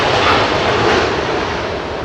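An airliner with its landing gear down flying near Heathrow, a dense steady engine roar, loud and close, easing slightly toward the end.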